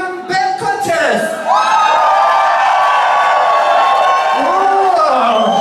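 At a Hamburg band contest final, the crowd erupts in sustained loud cheering and whooping, a broad roar of many voices that holds steady for several seconds.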